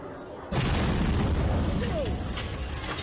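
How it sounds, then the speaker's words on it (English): A Gaza rocket strikes a bus in Holon, central Israel: after a quiet start, a sudden loud boom bursts in and settles into a roaring, rumbling wash of noise that slowly fades. "an autobus was hit directly by a rocket from Gaza"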